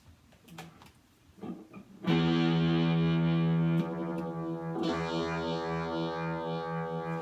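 A distorted guitar chord rings out loudly and sustains with a wavering, swirling Roto Vibe pedal modulation imitating a rotating speaker, after a few quiet picked notes at the start, on a three-string cigar box guitar.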